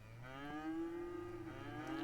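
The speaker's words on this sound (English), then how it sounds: "That's a lot of moo." Cattle mooing in the Cities: Skylines city-building game on farmland, a single long, loud, steady low moo that holds for about two seconds with a slight rise in pitch, heard alone without speech.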